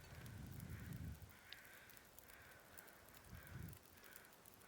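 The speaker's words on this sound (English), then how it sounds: "the carrion crows over those 2 doggos are still doing their thing" Carrion crows in the video game The Long Dark caw repeatedly in faint, harsh calls spread over a steady windy hiss.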